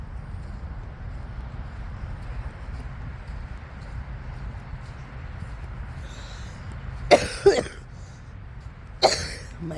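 A person coughing outdoors on a bay walk: two close, harsh coughs in quick succession and a third a moment later, over a steady wind-like rush.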